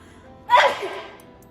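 A single close, sharp human sneeze bursting out suddenly in a quiet indoor room, with a short breathy tail fading after it.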